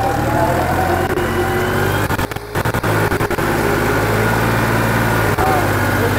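A Massey Ferguson 260 Deluxe tractor, with only about 70 hours of use, blue smoke and a loss of power, runs loud and close with a steady low engine drone that dips briefly midway, and someone talks over it.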